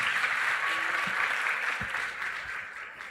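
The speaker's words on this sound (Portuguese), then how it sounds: "Vamos dar uma salva de palmas à nossa querida" A church congregation at a pastoral ordination service gives a round of applause for Pastor Marlene Sena, a steady, fairly loud mass of clapping that tapers slightly toward the end.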